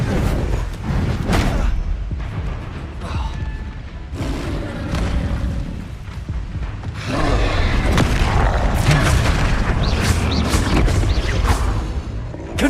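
Spell blasts from the Hogwarts Legacy video game: heavy, booming explosions and crashing impacts that come in repeated bursts, loud throughout and growing denser and fuller in the second half.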